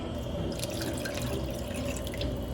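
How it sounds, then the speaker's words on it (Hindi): Half a cup of plain water pours into a pot of rice pulao, a close, steady trickling splash that runs continuously for a couple of seconds with no talking. "तो मैं इसमें आधा कप पानी और डालूंगी।"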